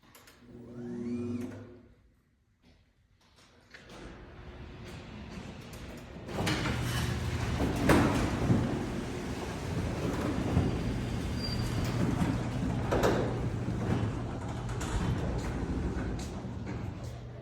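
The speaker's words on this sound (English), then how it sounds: "These are called Champion, and they're side mounts over here, right there. And they are very quiet, and they are top of the line garage door openers" Champion side-mount garage door openers run in a newly finished garage, their motors starting after a short quiet stretch and settling into a steady, moderately loud mechanical hum and rumble with faint rattles.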